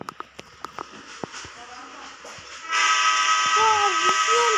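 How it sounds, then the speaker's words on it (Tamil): In a 3D Indian train-driving video game, a loud sustained train horn blares after several sharp clicks and clanks, the tone holding steady and bright for the last couple of seconds. "ஃபஸ்ட்டு இந்த ட்ரெயின் சவுண்ட் எப்படி இருக்குன்னு பார்த்துடலாம்."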